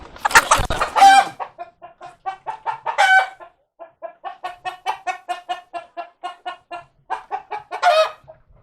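Backyard chickens cluck in a rapid, rhythmic series of close calls while a rooster crows loudly at the start and again near the end.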